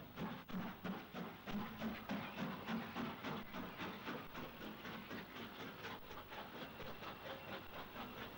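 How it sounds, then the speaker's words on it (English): Fowler condensing 2-6-2 tank steam locomotive No. 40022 of Kentish Town shed working a Moorgate train at Farringdon, with rhythmic chuffing beats and a steady hiss, fading slightly as it goes. "Now we see one of Sir Henry Fowler's condensing 262 tanks number 40022 of Kentish Town Shed, arriving and departing from Farringdon with a train from Moorgate"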